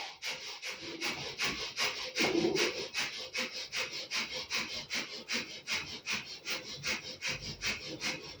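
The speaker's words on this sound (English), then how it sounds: "Close your eyes if you can and begin a breath of fire." Rapid yogic breath of fire during a throat chakra meditation, a steady stream of quick, rhythmic nasal exhalations, about three per second, close and fairly loud with no talking.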